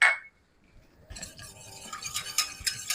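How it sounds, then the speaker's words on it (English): Cornstarch and water are whisked in a pot, with a short metallic clink at the start, then quiet, then rapid scraping and clinking strokes of the whisk against the pot. "Now we've got to really stir that up with a whisk."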